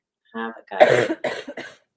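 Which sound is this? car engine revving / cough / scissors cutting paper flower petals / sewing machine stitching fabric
cough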